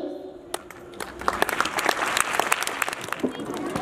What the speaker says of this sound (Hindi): जोरदार तालियां इन गन्ने कलाकारों के लिए।